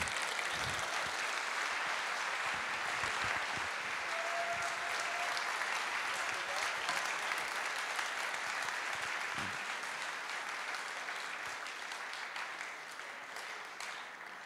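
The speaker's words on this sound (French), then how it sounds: "je vous invite à applaudir Manon Aubry" Sustained applause from the audience at a political meeting for peace and justice, greeting Manon Aubry as she comes on stage; dense, steady clapping throughout, fading slightly toward the end.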